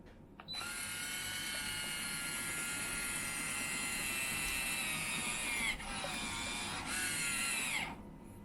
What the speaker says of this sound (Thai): มันจะ ทำการ ซีน ให้ ใช้ความร้อนตัดถุงให้นะครับ